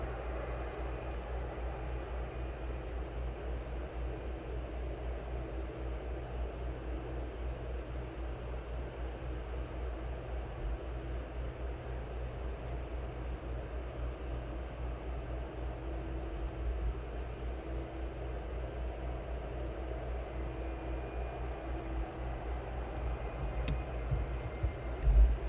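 A DHL cargo aircraft arrives at East Midlands Airport, its engines a steady, distant roar spread evenly across the whole stretch, with no voices.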